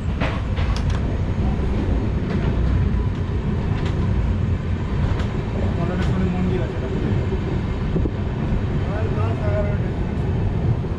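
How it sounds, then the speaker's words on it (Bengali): An intercity train on the Howrah to Malda Town route pulls into Nalhati Junction station with a steady roar of wheels and carriage rattle, with scattered squeaks and clanks and voices talking underneath. "আমাদের ট্রেন এখন এসে পৌঁছালো নলহাটি জংশন স্টেশনে"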